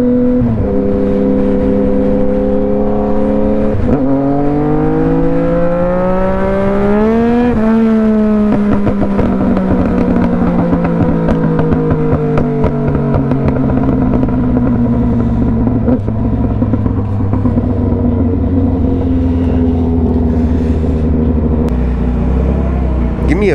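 A Yamaha FZ09 motorcycle rides through city traffic in Murfreesboro. Its engine drones loud and close through several gear changes, with the pitch sweeping up under acceleration and then settling into a steady cruise, over constant wind noise.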